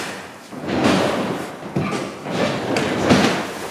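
Heavy doors of an old tram rumble and hiss open in long, rushing sweeps, with a soft thud between them, fairly close and loud.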